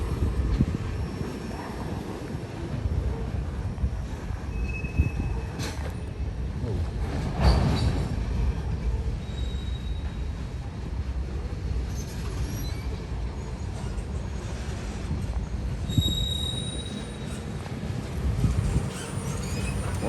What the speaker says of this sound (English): Watching trains diverge today.